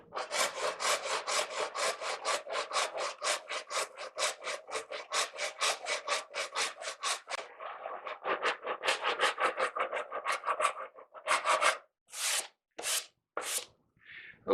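A rasp files down a wooden mandolin back with rapid, even rhythmic strokes for about eleven seconds, then a few slower, heavier scrapes, close and loud.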